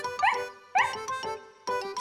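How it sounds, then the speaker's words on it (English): Snuffy, a cartoon dog, gives three bright, happy barks spaced evenly over about two seconds, each a short pitched yelp, close and clear with no talk. "Said Snuffy, barking happily and wagging her tail."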